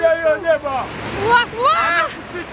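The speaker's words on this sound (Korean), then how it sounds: "오늘 너무 바다에 파도가 세요." Strong surf and wind at sea off Prison Island near Zanzibar carry as a steady rushing wash, mostly under excited voices exclaiming in delight.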